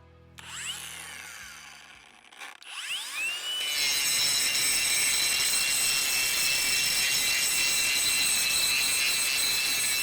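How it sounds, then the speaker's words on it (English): A RIDGID Octane brushless 4-1/2 inch angle grinder spins up and bites into old rusty railroad steel, settling into a loud, continuous high-pitched grinding whine up close. "we're gonna do some grinding first. We're gonna go for some old railroad steel here."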